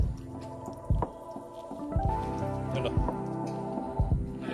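Water spills out of an overfilled guppy tank through its outlet, a close, busy patter of drips and wet splashes under a low steady hum.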